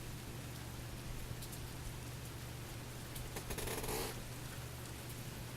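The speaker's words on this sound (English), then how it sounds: "now it's raining harder, so I had to mostly close the windows" Steady rain falling outside windows, a constant soft broadband hiss with a faint low hum underneath and a slight swell near the end; no one speaks.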